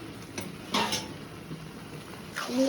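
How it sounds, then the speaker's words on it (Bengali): A lid goes onto a cooking pot of mutton curry with a few metallic clanks and clinks spread over a couple of seconds, each close and moderately loud, against a quiet kitchen background. "এবার ঢাকা দিয়ে দিচ্ছি"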